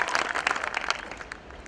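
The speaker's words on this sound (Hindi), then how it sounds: "एक बार जोरदार ताली हो जाए इस लेवल के लिए।" Brief burst of audience applause at a business plan presentation in India, moderately loud clapping that fades toward the end, with faint voices underneath.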